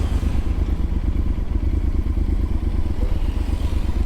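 A motorcycle engine thrums loud and close with a steady low throb and clatter as it rolls up to an inn in El Bolsón, Patagonia, on Ruta 40.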